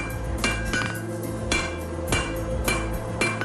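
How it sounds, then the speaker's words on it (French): A blacksmith's hammer strikes an iron point on the anvil while refining it, sharp metallic ringing blows landing in an uneven rhythm, loud and close, with resonant clinks between heavier hits. "je vais la peaufiner avec mon marteau"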